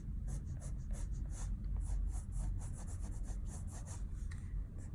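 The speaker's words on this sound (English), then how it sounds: "I'd like to use a colored pencil" Colored pencil shading on paper to deepen the hair in a fashion face illustration, a steady, close scratchy rasp with quick rhythmic back-and-forth strokes lasting throughout.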